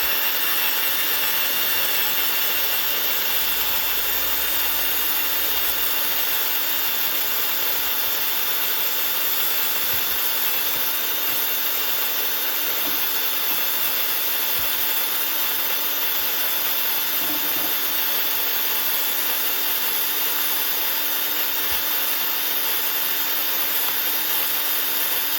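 A power screwdriver turns a small coffee grinder loaded with beans, giving a steady, unbroken whirring grind that runs for about twenty-five seconds with no talking.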